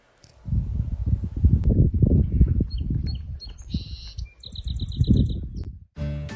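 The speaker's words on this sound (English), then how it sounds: "Many different birds will return to the park, like this songbird." A songbird chirps in bright, repeated high notes and short trills at Harriman State Park in Idaho in spring, heard alongside loud low rumbling and bustle that nearly cover the calls at times.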